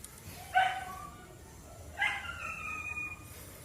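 Dogs in an abandoned house in a subdivision give two short barks, about a second and a half apart, at moderate distance over a quiet background hiss.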